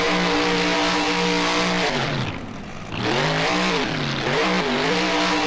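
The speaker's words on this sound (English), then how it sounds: "And now some donut action by Avenger." A monster truck spins donuts in BeamNG, its engine droning loudly and steadily, dipping briefly before revving back up and wavering in pitch as it circles.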